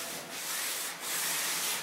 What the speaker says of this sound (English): I'm just giving it a flat sanding to help knock off any of those little bumps